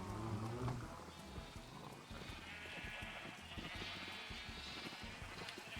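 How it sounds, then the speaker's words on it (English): Sheep bleating in a Minecraft Skyblock game, several wavering bleats heard in succession over a dense, busy game soundscape with shuffling and clopping noises throughout. "Honestly, maybe I should just use the sheep."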